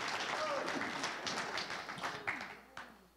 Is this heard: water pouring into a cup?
no